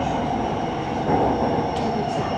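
A train at Bang Sue Grand Station in Bangkok gives off a steady, loud rumble of rolling rail cars, with a faint high squeal briefly rising near the end.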